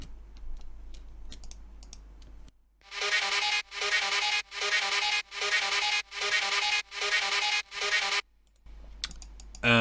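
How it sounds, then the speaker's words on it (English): A looped alarm sample in a synth drop, rising after a quiet start into eight evenly spaced bright pulsing bursts, loud and close, with brief gaps between repeats and no talk over it. "this alarm sample that I've looped over and over"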